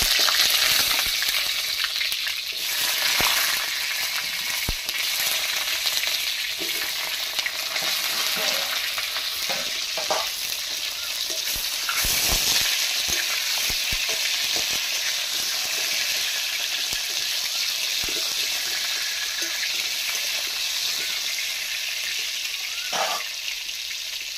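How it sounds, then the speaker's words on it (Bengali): Sliced pointed gourd (potol) fries in hot oil in a pan, a loud continuous sizzle and crackle with occasional scrapes and clinks of a spatula. "তেলটা গরম হয়ে গেছে, পটলগুলো দিয়ে দিলাম"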